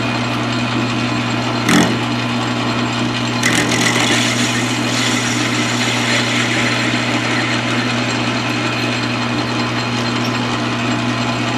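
A metal lathe runs steadily while facing off a part for a ghost trap prop, a constant motor hum with a faint cutting hiss, a sharp scraping burst near the start and another brief rasp a moment later.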